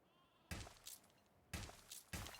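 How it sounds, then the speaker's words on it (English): Sheep at a sheep farm in the video game Anno 1800 bleat in three short, fairly close calls about a second apart over faint background ambience. "we'll go ahead and put this sheep farm right out here"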